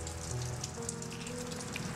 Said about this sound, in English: the rain hitting the cement was kind of loud